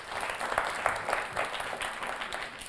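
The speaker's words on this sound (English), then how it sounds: "A round of applause for them too." Audience applause for contestants at a spelling bee tiebreaker, a steady wash of hand claps lasting a few seconds at moderate volume, with a faint voice underneath.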